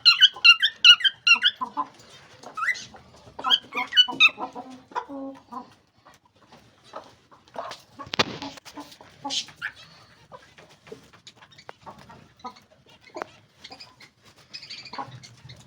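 Pet pigeons in a home loft chirp and squeak in quick bursts while feeding on grain, with a sharp flutter-like burst midway and softer calls scattered throughout.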